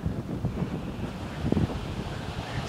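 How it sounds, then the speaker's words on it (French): A small gust of mild winter trade wind rumbles across the microphone near an airfield runway, a low steady roar with slight swells and no talk. "ah là le vent se lève un tout petit peu"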